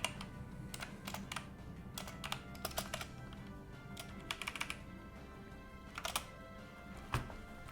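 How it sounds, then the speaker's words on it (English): Fast, uneven computer-keyboard typing in bursts of clicks and clacks, close and fairly quiet against a faint room hum, with no one speaking. "That was my keyboard."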